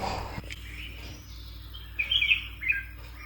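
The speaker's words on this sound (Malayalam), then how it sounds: "വിൻഡോ ഒക്കെ തുറന്നിട്ട് കുരുവികളുടെ ശബ്ദം കേട്ടിരിക്കാൻ നല്ല രസമാണ്" Sparrows chirp outside an open window in the early morning before dawn at a village home. A few bright, quick tweets come in a cluster near the end over a quiet, steady background hum.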